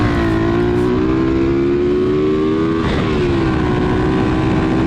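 Honda EX5 motorcycle engine running on a standard CDI, a steady loud close-up drone with a brief rev bump near the three-second mark, no voices.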